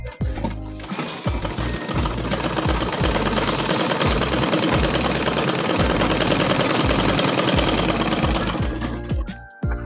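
Electric sewing machine stitching piping onto cloth, a steady fast mechanical whirr and needle chatter running nearly the whole time after a brief start, loud and close with no talking.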